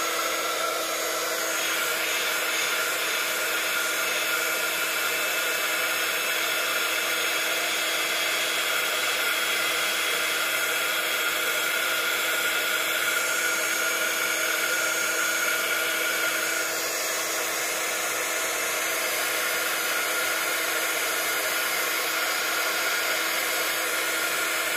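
A heat embossing tool blows hot air over an embossing stamp, producing a loud, unbroken fan-like whoosh and whine that holds steady throughout with no talking.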